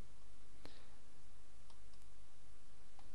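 A few sharp, faint computer mouse clicks, one clearer click then softer ticks, over quiet room hiss while applying a table width setting.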